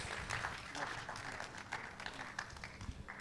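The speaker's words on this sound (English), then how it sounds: "Let's give our MD a round of applause." Delegates at an energy summit give a round of applause, a faint, steady spread of clapping from a distant crowd with a voice speaking over it.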